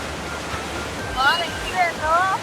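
Forceful river water rushes steadily at the Munich surfing wave, a loud continuous broadband roar with voices speaking faintly over it at times.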